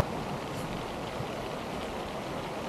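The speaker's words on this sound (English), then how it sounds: "right. The rain." Steady rainfall hisses evenly and continuously, a dense wash of drops close by with no distinct events and no voices.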